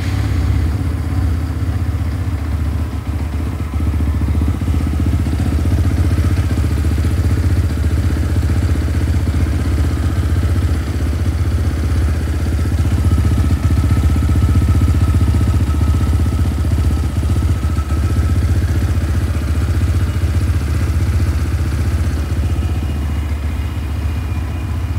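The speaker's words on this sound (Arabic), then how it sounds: "تعالى برضو قبل ما ننسى كده ندور الموتوسيكل مع بعض ونشوف الصوت بتاعه." A Wuyang Honda RS250 motorcycle engine idles steadily up close, a continuous low throbbing rumble with faint mechanical clatter that holds for the full stretch, with no talking over it.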